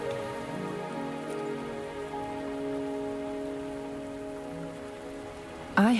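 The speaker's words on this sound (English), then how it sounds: "Are you trapped here by the rain?" Steady rain falling in a video game scene, a continuous soft patter under a sustained musical tone, with a brief louder sound at the very end.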